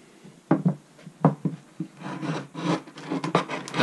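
Mulberry wood cutting board having its end grain trimmed, with rasping, rubbing strokes in uneven bursts, close and fairly loud, and no talking.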